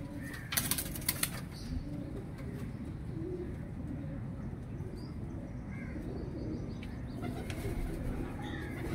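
Red Bull breed racing pigeons coo softly in a loft, with a burst of wing flapping near the start and low constant background rumble; faint and fairly distant.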